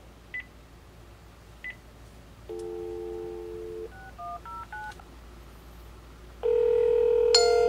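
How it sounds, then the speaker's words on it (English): A phone dials out to call a Windows Mobile 6.5 handset: a couple of faint clicks, a short sequence of keypad tones in uneven steps, then a loud, steady ringing tone at the end. "turn off the device and call my phone."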